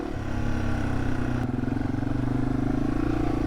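A TDub motorcycle engine drones steadily at close range, with a rough rumble and faint clatter from riding a trail in the Ozarks.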